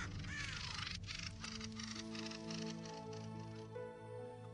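Raven cawing amid a fight in which it barely survives an attack, harsh calls standing out over a dense background of music and other sounds across the stretch.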